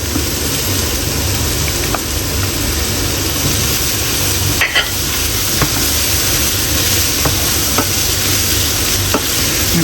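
Butter melts and sizzles loudly with sliced chicken in a pan, a dense steady crackle with a few sharp clicks of utensils, close and continuous without speech.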